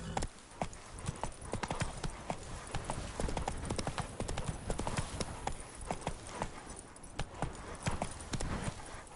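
A horse in The Witcher 3 gallops with rapid, repeated hoof clops, close and steady throughout, with no talk.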